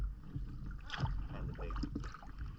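Kayak paddle strokes on Casco Bay, soft splashes and water swishes up close over faint wind and a low rumble.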